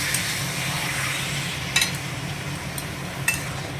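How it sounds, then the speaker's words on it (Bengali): Mutton curry is stirred in a pan over a steady sizzling, bubbling bed of sound, with a few faint utensil taps against the pan, close and moderate in level. "এবার আমি মাটনটা নেড়ে দিচ্ছি।"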